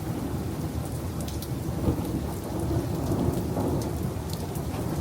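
Heavy rain pours down on surfaces while deep, continuous thunder rumbles through a severe storm, the roar holding steady and swelling a little in the second half, with no one speaking.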